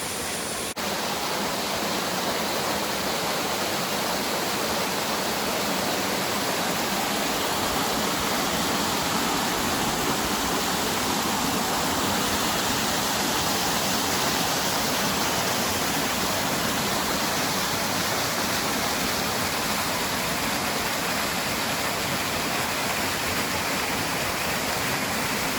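A waterfall at Cottonwood Falls in Worlds End State Park pours with a steady, dense roar of rushing water, constant and fairly close throughout with no voices over it.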